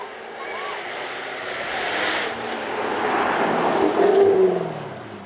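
A Jaguar F-Type Project 7 with a 5-litre supercharged V8 revs at a supercar track weekend, its roar swelling from moderately distant to louder and peaking near the end.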